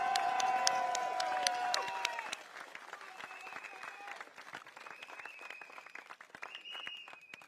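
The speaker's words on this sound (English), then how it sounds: "Can I have one round of applause for our NCMP, Hazel?" An audience at a Singapore election rally breaks into applause and cheering, strongest at first with a few sharp claps standing out, then thinning into scattered clapping as a drawn-out tone lingers over it.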